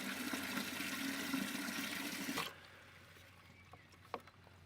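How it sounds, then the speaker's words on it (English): Water gushes loudly into a watering can in a garden for about two and a half seconds, then cuts off, leaving quiet with a few small drips and knocks. "I'm just going to fill up a watering can"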